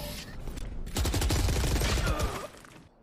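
Burst of gunfire in a Valorant pro match, a dense rapid volley of shots fired through a wall, loud and sustained for about a second and a half before fading out.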